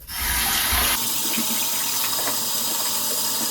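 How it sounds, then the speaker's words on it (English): Clean water gushes steadily out of an airless paint sprayer into a drain pail, a loud continuous rushing spray with a brief heavier burst at the start, no voices. "I'm going to flush it into a drain pail"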